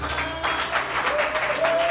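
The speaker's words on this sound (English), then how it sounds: "Can we clap those hands for Jesus?" A church congregation claps their hands during a sermon, a moderately loud, continuous patter of many hands with rhythmic swells, no talking over it.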